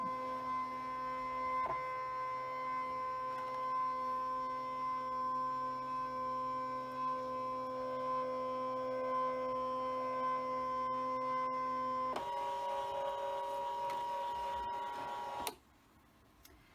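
Brother ScanNCut machine cutting fabric, a steady electronic hum with tonal whine that runs continuously, shifts pitch partway through, then cuts off near the end.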